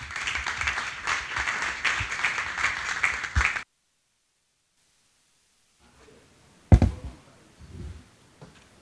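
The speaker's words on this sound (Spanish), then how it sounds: "Yo pido un aplauso para él." Lecture-hall audience applauding the speaker Mario Pontiggia at a conference: a steady burst of many hands clapping that cuts off abruptly into silence, followed by a single loud thump and faint rustling.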